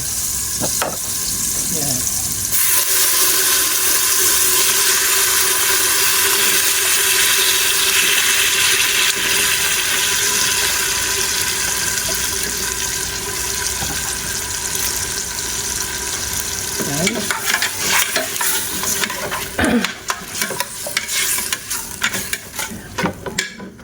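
Chicken pieces dropped into a hot pot for macaroni soup sizzle and fry loudly and steadily, with stirring and scraping clatter toward the end and no talking.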